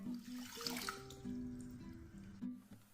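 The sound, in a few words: water poured into pot for choux pastry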